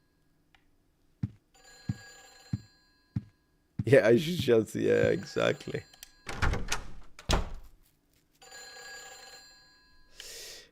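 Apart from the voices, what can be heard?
phone ringing in video game Silent Hill 3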